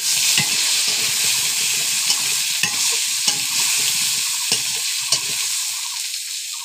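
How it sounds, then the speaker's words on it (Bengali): Potatoes frying in a pan on a clay stove, a steady close hiss of sizzling oil broken by sharp utensil taps and scraping against the pan, with no one talking. "আলুগুলো দিয়ে দিলাম, একটু ভাজি করে নেব"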